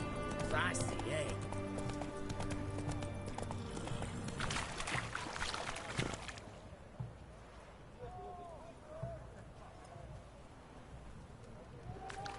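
The horse Roach galloping in The Witcher 3 game, a fast drumming of hooves that is loud at first and then fades and thins out, with quieter ambient sound and a few faint clicks afterward.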